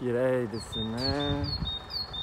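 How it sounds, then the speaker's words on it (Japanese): Small birds chirp and tweet in a park early in the morning, high short calls repeating in the background while someone speaks over them in the foreground. "まだ早いですから鳥が鳴いている。"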